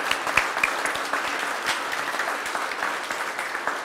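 An audience applauds at the opening of a new bridge exhibit at the Kentucky Science Center in Louisville, with dense, steady clapping from a crowd that carries on evenly for several seconds.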